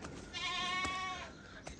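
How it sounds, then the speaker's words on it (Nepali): A single long, wavering goat bleat sounds close by at a pen, with a couple of short knocks around it. "बाख्राहरू यसरी सुतिराखेको छ।"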